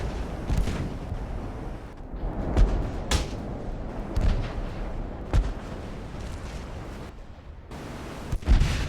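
Battleship guns and explosions from Ultimate Admiral: Dreadnoughts make a string of heavy booms and sharp cracks, irregularly spaced over a constant low rumble of battle noise.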